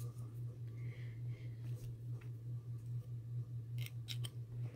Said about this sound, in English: remove this glass and just cut it out. I use scissors.